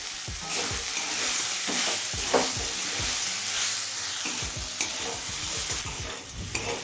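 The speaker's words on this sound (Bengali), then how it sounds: "এখন ভেজে রাখা বড়িটা দিয়ে দিচ্ছি" Fried lentil dumplings (bori) sizzle in oil in a pan with potato, eggplant and drumstick flowers, a loud continuous frying hiss broken by repeated scraping strokes of stirring.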